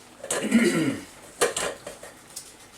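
A metal container and a vegetable mill handled in a kitchen while preparing quince, with a cluster of close clanks and scrapes followed by a few sharper knocks, and a voice talking alongside.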